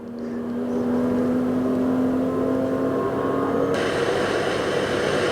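A BMW race car accelerates on a circuit, its engine note droning steadily and growing louder over a few seconds, with a brighter tonal whine rising near the end and no voices.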